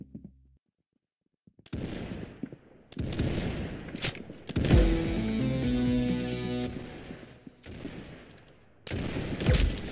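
Gunfire in the Roblox game Arsenal comes in several sharp bursts after a quiet start, with a longer stretch of rapid shots in the middle, loud and close.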